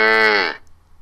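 One cow moos in a single loud, close, sustained tone that drops off after about half a second, with nothing else heard.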